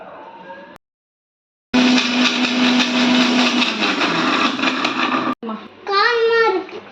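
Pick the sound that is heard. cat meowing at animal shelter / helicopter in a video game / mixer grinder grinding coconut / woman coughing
mixer grinder grinding coconut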